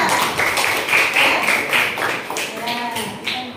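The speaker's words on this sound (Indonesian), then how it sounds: "Kasih aplaus untuk kelompok 3" A classroom of students claps for a student group after its presentation, a dense burst of many hands patting for a few seconds, fairly loud and close, then tapering off.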